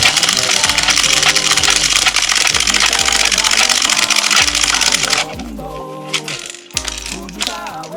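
Airsoft BBs rattle and clatter continuously through a Nuprol 1,000-round M4 speedloader into a magazine, a loud close pouring that stops after about five seconds, followed by a few scattered clicks and rattles.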